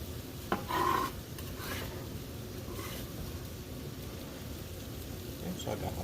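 A spoon scrapes and stirs ginger and garlic in a pan with a soft sizzle, gentle rhythmic rubbing under a voice speaking nearby.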